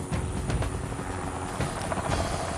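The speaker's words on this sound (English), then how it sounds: "What the helicopter will do, he'll come in, he'll have a quick circuit to make sure it's a safe LS." A helicopter inbound to land in a jungle clearing, its steady rotor chop and engine drone loud and continuous, with no voices.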